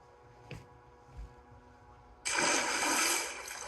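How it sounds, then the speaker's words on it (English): Water splashing in Minecraft, a video game, a few soft thuds and then a sudden loud rushing splash that carries on steadily for over a second before easing off. "Water."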